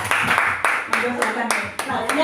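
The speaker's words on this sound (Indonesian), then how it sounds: "Tepuk tangan dulu teman-teman" A group clapping hands at a school workshop, a series of sharp claps in an irregular rhythm under an ongoing voice.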